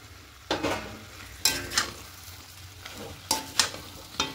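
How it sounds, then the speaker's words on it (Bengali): Fried potatoes go into a pan of cooking chicken and are stirred, producing a low sizzle broken by several sharp scraping stirs at irregular intervals. "এবার এখানে ভেজে রাখা আলুগুলো দিয়ে দেবো।"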